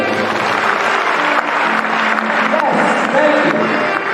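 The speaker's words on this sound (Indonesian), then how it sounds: "Tepuk tangan untuk kita semuanya." Seminar audience applauding loudly in a dense, continuous wash of clapping, with a voice speaking faintly underneath.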